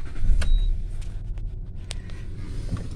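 Land Rover Discovery 3 4x4 engine climbing a steep off-road ascent, a low steady rumble up close with a few brief clicks and knocks over it, no talk.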